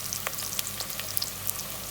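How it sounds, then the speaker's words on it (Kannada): Onions and ground masala fry in a pan with a steady close sizzle, broken by small crackles and pops, and no voices. "ಇನ್ನೊಂದು ನಿಮಿಷ ಫ್ರೈ ಮಾಡ್ಕೊಳ್ಳಿ ಚೆನ್ನಾಗಿ"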